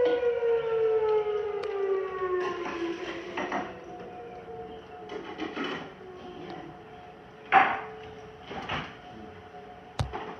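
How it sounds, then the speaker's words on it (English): Civil defense sirens sounding a tornado warning, heard from indoors as faint, distant wails that slowly fall and rise in pitch, with occasional household knocks and clatter close by. "Those are other sirens."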